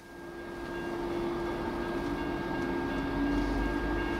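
A fast CSX tank train pulled by Canadian National locomotives rolls past in a steady, rising rumble of wheels and cars, with a sustained engine drone running under it throughout.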